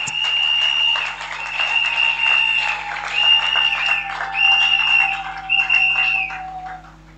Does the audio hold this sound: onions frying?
no